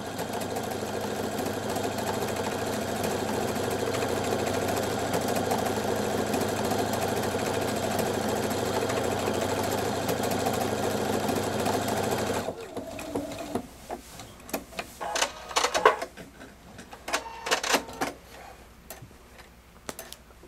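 A Pfaff Performance 5.0 sewing machine stitching a decorative house-and-tree pattern runs with a steady, fast mechanical whir. It then stops, leaving a series of softer clicks and rattles.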